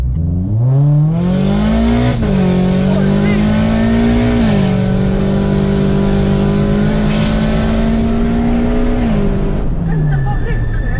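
A turbocharged Subaru BRZ fitted with a Varis bodykit revs and accelerates in bursts, its engine note climbing, dipping at shifts and climbing again, loud and close, with a brief drop at the end.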